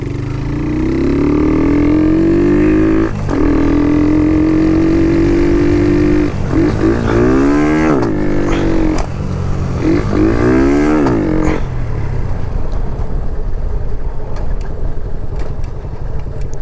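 A small Shineray motorcycle engine idles and revs, its pitch rising and falling through several throttle blips before settling to a rougher, steady run, loud and close with no speech.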